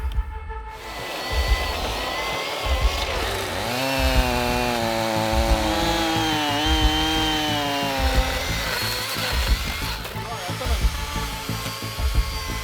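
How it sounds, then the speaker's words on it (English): Chainsaws cut through fallen trees in a rainforest, the engine revving up into a sustained whining bite, wavering in pitch as the chain works through the wood, then dropping back to a rough idle, loud and close. "The chainsaws are getting a real workout"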